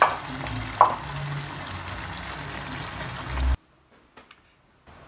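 A fish head fries in a pan of sauce with a steady bubbling sizzle and an occasional stir or clink. The sizzle cuts off abruptly into near silence, broken by a few faint taps.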